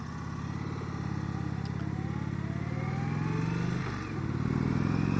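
A 2020 Indian Chief Vintage motorcycle engine runs close by, its pitch climbing as it revs and accelerates, then dipping briefly before rising again.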